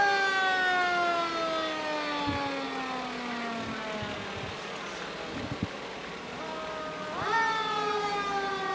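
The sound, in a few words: fire engine siren in a parade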